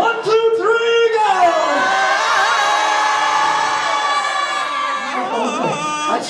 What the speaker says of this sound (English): I want to hear your best, your loudest Tarzan scream.